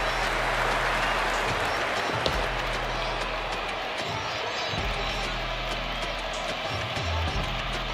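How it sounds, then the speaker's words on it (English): A large stadium crowd roars and applauds in a continuous, noisy wash of cheering and clapping. "The crowd is electric right now."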